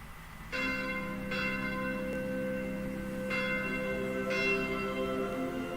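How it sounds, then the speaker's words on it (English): A church bell rings in the Fire Emblem Echoes video game, four bright resonant strikes with long sustained ringing tones that overlap and hang over a low steady background. "why are they clanging that infernal bell? Apparently the king's passed away."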